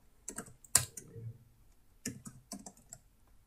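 Computer keyboard typing during a Python coding tutorial, a few sparse close key clicks in short bursts, quiet and alone with no talking.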